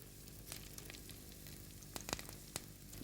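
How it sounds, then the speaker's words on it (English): Fish fillets frying one at a time in a pan, a faint, steady sizzle with a few scattered crackles and pops. "start cooking the seafood one at a time, starting with the fish fillets"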